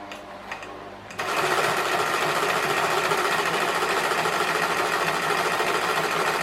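Sewing machine running a zigzag stitch that goes back and forth over each point to join quilt blocks together; after a second of quiet it starts up and whirs continuously, loud and close, with no talking.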